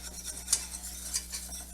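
Flour is stirred into melted butter in a pan, a utensil scraping and tapping in quick, irregular strokes over a faint sizzle, close and alone.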